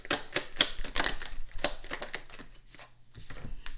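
Tarot cards being drawn and handled from a deck, a series of quiet, crisp flicks and slaps at an irregular pace, close by with no talk.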